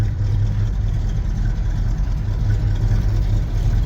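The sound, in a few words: Chevrolet K10 short bed truck engine idling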